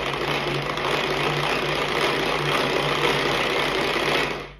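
Electric mixer running steadily at speed 1 while mixing chocolate cake batter, a continuous close motor whir with a buzzing hum that holds unchanged for several seconds, then cuts off at the very end.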